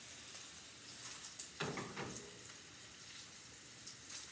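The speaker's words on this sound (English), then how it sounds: "See, there's the sizzle going on there, right in the pan." Quiet kitchen background, then a sudden burst of hissing sizzle as chicken hits a hot frying pan, flaring up and settling into a steady crackle.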